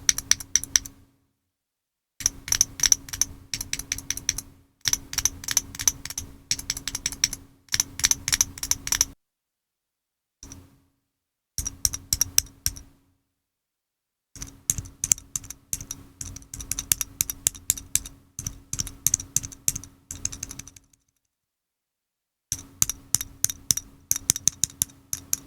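Flexigear FlashTap arcade-style tactile switch buttons, in both normal and silent versions, clicked repeatedly in rapid bursts of sharp presses separated by short pauses, crisp and close with no talking.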